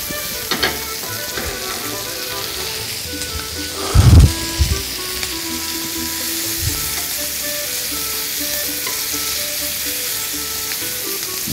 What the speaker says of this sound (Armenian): Արդեն կարելի է նաև միասին տապակել